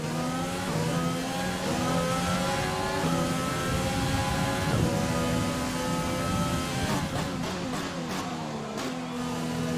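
Formula 1 car engine in the F1 2020 video game, a loud high-revving whine climbing and dropping through repeated gear shifts, continuous for the whole stretch with no voices.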